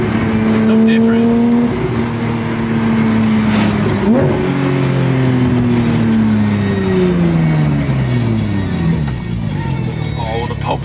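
A Porsche 992 GT3 with a JCR titanium exhaust drones loudly from inside the cabin, its engine note rising and falling through gear changes, with people talking over it.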